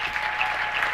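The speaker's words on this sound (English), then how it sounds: "round of applause" A gym crowd at a women's college basketball game applauds the seniors as they leave the floor for the last time, a steady wash of distant clapping filling the short moment without talk.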